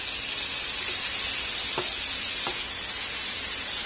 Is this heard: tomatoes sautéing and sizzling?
yes